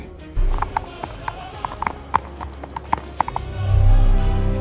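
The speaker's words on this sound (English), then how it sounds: "with a single friend at his side and a shard of god power in his hands, Emanuel rode out once more" Horse hooves clip-clop at a steady, clear gait as a rider sets out in a fantasy story, a fairly close series of distinct hoof strikes over a low ambient drone.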